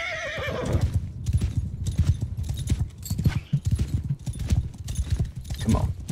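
Horses gallop in the medieval combat game Mount & Blade 2: Bannerlord, with rapid, continuous hoof clip-clop close by, a whinny near the start, and battle noise underneath.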